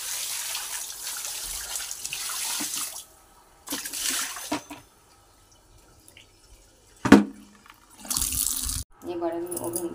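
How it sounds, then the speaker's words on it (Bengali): Water poured in short splashing bursts, loud gushes separated by quiet gaps, with a sharp clink partway through and a voice speaking between pours. "এবার আমি জল ঢেলে দেবো।"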